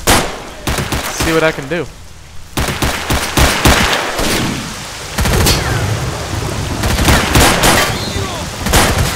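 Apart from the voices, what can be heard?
gunfight in the video game S.T.A.L.K.E.R.: Shadow of Chernobyl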